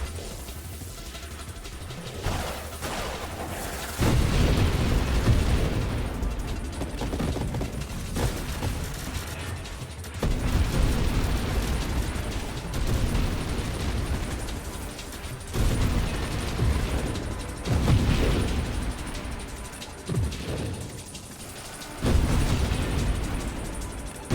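Repeated loud explosions from a space shooter game boom in overlapping surges, each burst a dense low rumble that swells and then settles before the next one hits.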